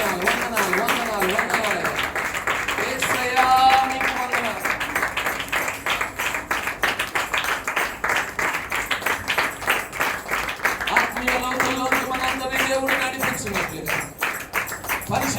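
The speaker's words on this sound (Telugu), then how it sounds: "గట్టిగా ఒకసారి చప్పట్లు కొడుతూ ప్రభువును స్థుతిద్దాం" A church congregation at Sunday worship claps loudly in a fast, even rhythm, the sharp claps running throughout over singing or speaking voices.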